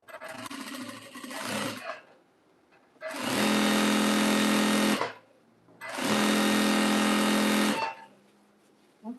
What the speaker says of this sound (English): I'm sewing 5, 6, 7, 8 together right now